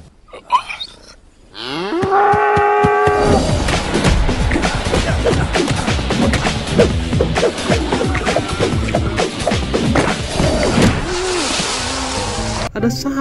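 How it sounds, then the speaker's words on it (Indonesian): A cow lets out a loud, drawn-out moo in the dinosaur park video game Jurassic World Evolution 2, followed by dense, continuous game sound. "Ada sapi teman-teman."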